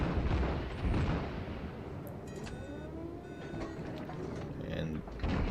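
A Kongo battleship fires its guns in World of Warships, with booming blasts and rumbling low-end under someone talking throughout.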